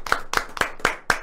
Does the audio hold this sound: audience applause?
yes